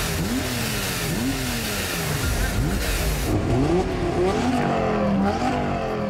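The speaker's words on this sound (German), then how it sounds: "So, jetzt wird's ernst. Drag Race, halbe Meile gegen Niki" A tuned VW Golf and a Porsche 911 Turbo S accelerate from a standstill in a half-mile drag race, engines revving loudly and climbing in pitch through repeated gear shifts, with no break in the noise.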